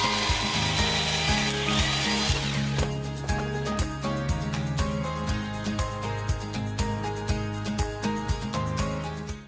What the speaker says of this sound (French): je vais les couper à la scie sauteuse pour pouvoir les emboîter